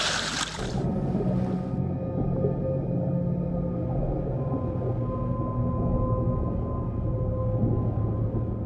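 Underwater calls of a fin whale in the Mediterranean Sea: long, low, sustained droning tones layered over a constant murky ocean rumble, distant and unaccompanied by any voices.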